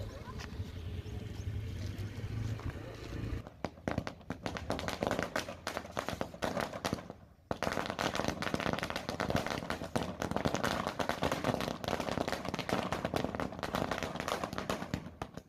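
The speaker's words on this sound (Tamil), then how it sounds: "இதனால் நிம்மதியடைந்துள்ள குடியிருப்பு வாசிகள் அதனை பட்டாசு வெடித்து வரவேற்றுள்ளனர்" Residents set off firecrackers to celebrate finished bridge works: rapid sharp crackling bursts in long dense volleys, briefly pausing twice, loud and close.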